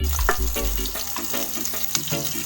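A pot of native chicken tinola cooking, crackling with frequent sharp pops and sizzling bursts over a steady bubbling background, close and moderately loud with no voices.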